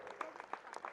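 Audience applause at a student felicitation ceremony, a short burst of steady clapping from a crowd, moderately loud and continuous throughout.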